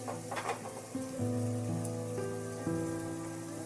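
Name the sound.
sweet potatoes frying in a pan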